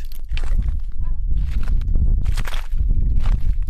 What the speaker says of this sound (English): Here's the sound of the agave as it crunches under our feet.